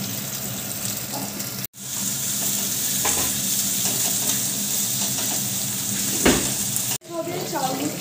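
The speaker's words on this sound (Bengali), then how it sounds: "এবারে তো আমি দিয়ে দেবো কুচানো পেঁয়াজ" Chopped onions sizzle and fry in hot oil with garam masala for a large batch of chicken kosha, a steady broad crackle with stirring scrapes, broken by two short cuts.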